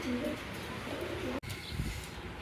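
A pair of Chila pigeons, a hen and a cock, coo in low throaty phrases against a noisy, hissy background, broken by a sharp click partway through.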